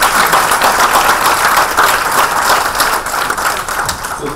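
Loud, sustained applause from a seated audience after a 2020 India policy and market outlook talk, thick even clapping from start to finish with no voices.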